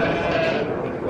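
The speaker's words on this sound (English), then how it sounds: "there are some sheep back there." Sheep bleat continuously at a farm, a steady near-to-mid-distance bleating that fills the whole moment with a little background chatter mixed in.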